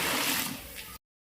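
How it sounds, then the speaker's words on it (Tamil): Water poured into a cooking pot for chicken biryani, a steady splashing pour that runs for about a second and then stops abruptly. "தேவையான தண்ணியை சேர்த்து மூடி வைக்கணும்"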